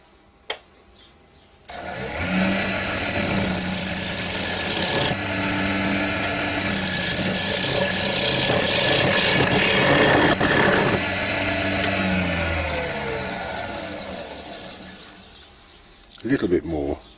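A wood lathe faces off the base of a small wooden witch's cauldron, a loud, continuous scraping roar of the tool cutting spinning wood that runs steadily for about fifteen seconds, then stops.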